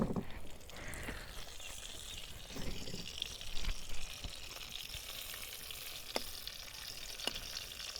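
Dried chili and bay leaf tempering in hot oil for a taro mash, a faint, hissing sizzle with a few sharp ticks and clinks of cookware, quiet and without speech.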